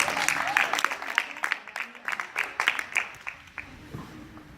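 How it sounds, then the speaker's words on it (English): A small group of people at a talk claps irregularly, scattered hand claps of varying strength that thin out toward the end, fairly faint. "Clap for it."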